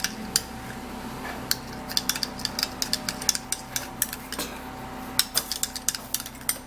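A utensil stirring milk into boiled, blended potato in a bowl makes a run of quick, irregular clinks and taps against the bowl, close and fairly faint, with no talking.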